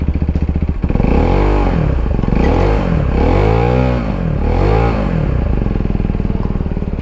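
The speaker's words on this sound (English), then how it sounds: "So we'll give it a little bit of a rev and we'll see how it sounds." A Sinnis Terrain 125cc adventure motorcycle revs up close and loud, its engine note rising and falling in several swelling surges over a steady idling putter, with no talking.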